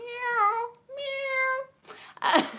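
A person imitates a cat, giving two drawn-out, pitch-bending meows close to the microphone, followed by a short burst of noisy rustling.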